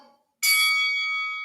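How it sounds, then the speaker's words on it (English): Exercise timer bell marking the end of a set in a live weights workout, a single bright ringing strike that sustains and slowly fades, heard clearly after a moment of quiet. "Keep going to the final bell."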